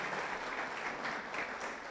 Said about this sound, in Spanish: todos démosle un aplauso a los que están aquí en el YouTube